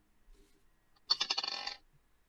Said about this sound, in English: He heard the dice